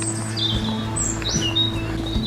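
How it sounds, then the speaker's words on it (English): Small birds chirp and whistle in quick bright notes along a riverside walking path near Stanley Ferry, Wakefield, over a steady low hum of background noise. "you've got birds singing."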